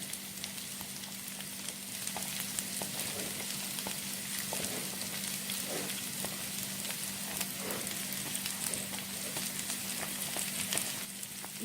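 Cauliflower, carrot and capsicum fry in a pan with caramelized ginger for a Malaysian Indian-style vegetable dum biryani. The soft, even sizzle has light pops and stirring scrapes, is fairly quiet and steady, and carries no speech.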